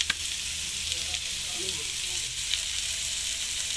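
Onion, garlic and pork sautéing in a pan for Valenciana, a steady close sizzle and hiss with a few faint stirring knocks throughout.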